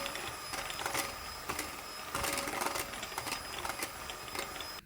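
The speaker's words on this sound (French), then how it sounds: "Donc on va continuer à fouetter jusqu'à ce que ça refroidisse totalement." Buttercream is whisked steadily after hot sugar syrup goes in for a pistachio Russian cake: a continuous mechanical whir with small rhythmic surges, close and fairly loud.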